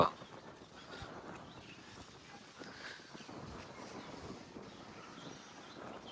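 Strong wind blows steadily across a rooftop in a soft, broad rush across the microphone, fairly quiet and continuous, with faint background noise and no talking.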